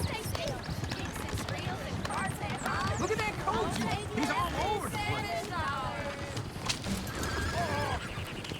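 A horse neighs and whinnies repeatedly over clip-clopping hooves in Red Dead Redemption 2, with background voices and bustle throughout.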